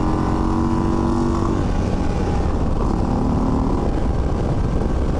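A 2023 Indian Sport Chief motorcycle being ridden at speed, with a loud, continuous engine roar and rushing wind noise throughout, close up and without talk.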